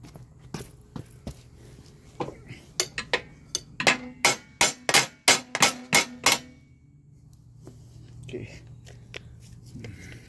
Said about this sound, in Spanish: Déjeme agarrar un hammer, martillo.